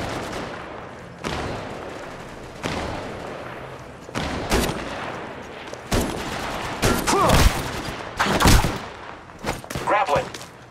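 Gunfire in Apex Legends Mobile, with bursts of rapid automatic shots and single cracks coming in clusters that grow louder and denser toward the end, over game sounds and a character voice.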